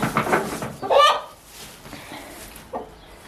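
A hen clucks close by in a few short, low grumbling bursts, with quieter pauses between them.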